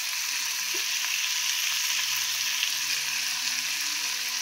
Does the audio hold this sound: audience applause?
no